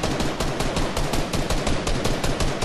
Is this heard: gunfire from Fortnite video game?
yes